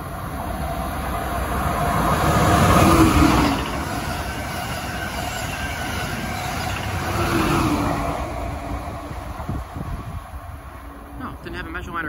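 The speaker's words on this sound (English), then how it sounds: "Amtrak Keystone has an engine on each end." An Amtrak Keystone passenger train with an engine on each end passes at North Elizabeth, New Jersey, during the early evening rush, a loud steady rumble and rush that swells twice, with voices talking over it.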